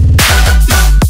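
Glitch effect on a future riddim drop, triggered from the first step, a loud stuttering chop with sharp downward-swooping hits and a dense buzzing bed, brief and alone.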